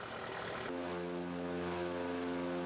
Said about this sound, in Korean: 타베우니로 가는 비행기는 8인승 소형 비행기